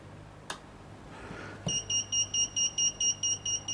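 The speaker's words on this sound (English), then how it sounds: "Okay, our beeper's working now." A dot matrix clock kit's beeper sounds a rapid run of about nine short, evenly spaced high electronic beeps, loud and close, after a brief click and some faint rustling.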